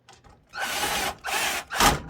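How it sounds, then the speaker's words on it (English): A power drill drives screws into a PC case in three short, loud whirring bursts separated by brief pauses. "You put the screws in the holes and you drill them in."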